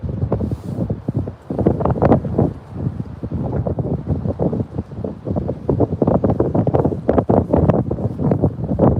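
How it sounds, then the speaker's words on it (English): Gusty wind buffeting the microphone on a night crappie fishing outing, loud, rough and continuous with rapid bursts and no talk. "Y'all hear that wind?"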